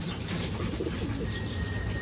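Ferozpuri pigeons cooing steadily in a close, continuous murmur of low throaty calls, the soft cooing overlapping without pause against a dense background hum.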